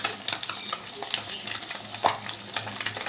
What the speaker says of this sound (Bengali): মাছটা ভেজে ভালো করে তুলে নেব